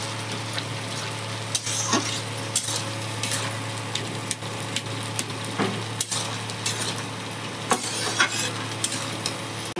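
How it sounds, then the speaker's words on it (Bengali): Cumin and chili powder being stirred into a dish in a pan, a steady scraping of utensil against metal with a faint sizzle underneath, repeated strokes spread across the stretch with no voices. "ভালো করে মিক্স করে নেবে।"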